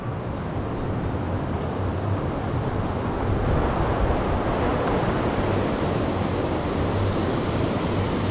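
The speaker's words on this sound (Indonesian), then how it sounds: "Pemandangan dari Pantai Eco Beach." Ocean waves breaking at Echo Beach, Canggu, Bali, heard as a constant roaring wash that swells slightly louder midway, with wind buffeting the microphone and no voices.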